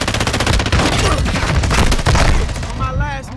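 Dense bursts of automatic gunfire and explosions from a tactical shooter video game firefight, loud and continuous with overlapping rapid shots, plus a brief warbling tone near the end; voices talk over the action.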